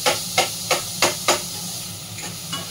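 Onions drop into hot spiced oil for a mushroom masala, setting off a loud, steady sizzle up close, cut by five evenly spaced knocks of a spoon against the pan early on, then softer taps.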